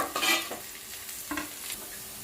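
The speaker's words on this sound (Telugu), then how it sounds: "ఆనియన్స్ ఫ్రై అవుతున్నాయి కదా, ఇందులో పచ్చిమిర్చి యాడ్ చేస్తున్నాను." Onions and green chillies frying in a pan for Telangana bagara rice, with a spatula stirring through them: short scraping bursts over a close, steady sizzle, no talking.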